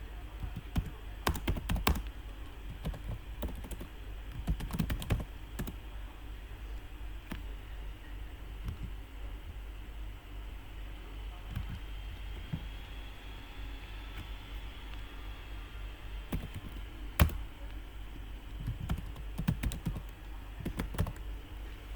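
Steady computer keyboard typing during database work, with clustered bursts of keystrokes separated by pauses, fairly close and moderately quiet over a faint hiss.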